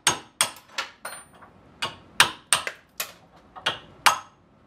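A hammer strikes the king pin on a Club Car Precedent golf cart, about ten sharp metallic blows in an uneven rhythm, close and loud with no talking.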